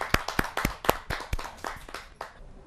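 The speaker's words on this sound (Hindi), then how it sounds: "आइए जोरदार तालियों से उनका स्वागत" Audience at a Hindi poetry gathering clapping in a sparse, uneven burst of about a dozen distinct claps that thin out and fade toward the end.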